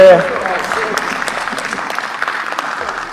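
Applause in a parliament chamber, a steady wash of clapping from members that carries on throughout, with voices talking over it.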